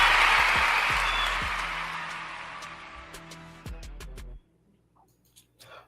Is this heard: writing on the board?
no